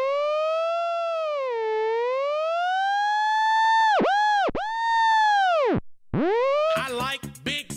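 A Moog Etherwave theremin with reverb and delay sings a smooth, wavering tone that glides up and down with vibrato and echoing tails, breaking into brief swoops before a voice speaks near the end.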